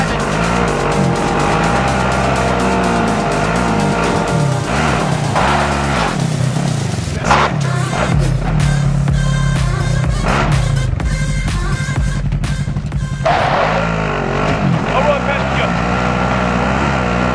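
A car driven in a squad-based shooter video game: a loud, continuous engine drone that revs and shifts pitch, with tire squeals and rough surface noise, then a sudden drop to quieter ambience near the end.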